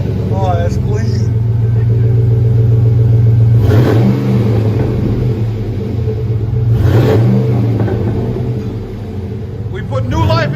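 A 2007 GMC Sierra 5.3L V8 with true dual exhaust and Flowmaster Super 40 mufflers revs loudly and close by, the engine rising and falling in a few deep, throaty bursts over a steady rumbling idle, with a voice talking briefly.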